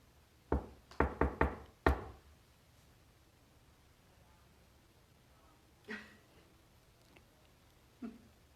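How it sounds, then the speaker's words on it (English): A quick burst of five or six sharp knocks close by, then quiet with a couple of isolated thuds later on. "I'm going to knock on something"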